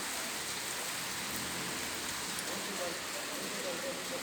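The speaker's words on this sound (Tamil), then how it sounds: "மழை நிற்கவே இல்லை ஓயாமல் பெஞ்சிக்கிட்டே இருக்குது" Heavy rain pours without pause on a flooded street in Salem, India, a dense, even hiss of water hitting surfaces all around, steady from start to finish.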